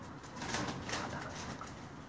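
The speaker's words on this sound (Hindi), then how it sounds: "मदीना मनव्वरा उस्ताद अब्दुलमजीद के टैडी कबूतर" Soft, breathy pigeon cooing repeats in a gentle rhythm against a steady hiss of background noise, fairly quiet and close.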